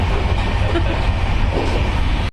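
A loud, steady rumble of a train at a station with low mechanical drone and clatter, continuous throughout, ending abruptly.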